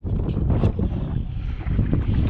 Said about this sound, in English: wind is picking up, guys